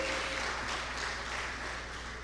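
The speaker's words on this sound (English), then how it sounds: "Please, a round of applause for him." A conference audience at the AFNIS 2025 session applauds a speaker being introduced, producing a soft, distant, steady wash of clapping over a faint low hum.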